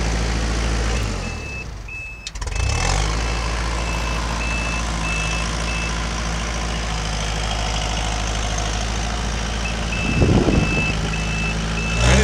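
Steady reversing safety alarm beeping from a Kubota L45 tractor, evenly spaced tones over the continuous low rumble of the idling engine, with a brief mechanical clunk partway through and no talking.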